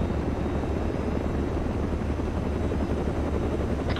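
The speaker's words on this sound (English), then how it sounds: "Was that a helicopter? Helicopter northwest." A helicopter passes overhead in the military shooter game Arma 3, its rotor thump a steady, dense, loud drone that fills the whole stretch without letup.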